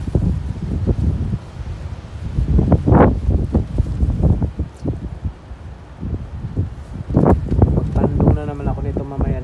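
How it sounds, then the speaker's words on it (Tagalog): Strong wind roars and buffets the microphone continuously during rainfall in Saudi Arabia, with gusting rumble throughout and a voice talking over it. "lakas ng hangin"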